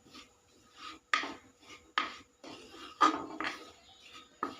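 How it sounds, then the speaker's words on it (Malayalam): Spoon stirring a pot of Kalanchi fish curry after coriander powder goes in, giving a run of close scraping, clinking strokes against the metal, with several sharper knocks among them and no talking. "അത് നമ്മൾ നല്ലപോലെ ഇളക്കി കൊടുക്കണം."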